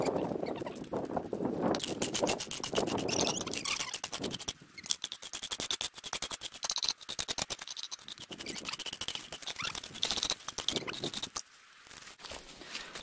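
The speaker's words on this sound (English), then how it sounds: "Now we just need to grind these into a fine powder." Resin, charcoal and kangaroo dung are ground into a fine powder for bush glue. The result is a continuous close-up gritty scraping and crunching in quick, rhythmic strokes with a few short pauses, and no one speaks.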